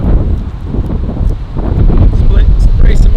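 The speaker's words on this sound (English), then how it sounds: "It's a little bit too windy" Strong wind buffeting the microphone outdoors beside a 2020 Corvette C8, a loud continuous low rumble with gusts swelling and easing.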